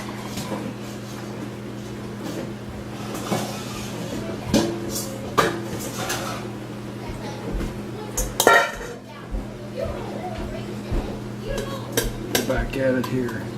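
Plums being moved from one bowl into another, with clinks and clatter of utensil against bowl, soft wet shifting and scattered knocks over a constant low hum, close by and irregular.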